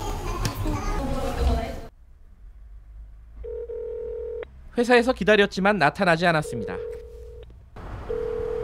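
Telephone keypad tones beep in a quick sequence while a call is attempted, followed by a steady held line tone, with a person talking over part of it.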